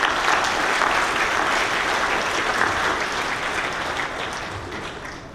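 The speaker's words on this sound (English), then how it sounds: "Kindly join me in giving them all a big round of applause." A charity dinner and sports awards night audience gives a steady round of applause that holds for several seconds and then gradually fades.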